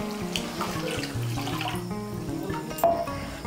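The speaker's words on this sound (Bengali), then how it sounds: "আমি মশলার বাটিগুলো ধুয়ে এর মধ্যে দিয়ে দিচ্ছি আরও হাফ কাপ জল।" Water is poured from rinsed spice bowls into a pan of Bengali vegetarian pointed-gourd curry, a steady splashing pour heard up close that continues through the whole moment with light clinks of the bowl.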